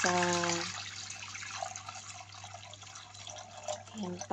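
Water runs and splashes steadily into a cooking pot nearby, with a low electrical hum beneath and a voice speaking briefly at the start and end.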